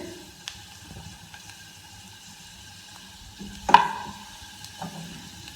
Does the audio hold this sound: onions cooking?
yes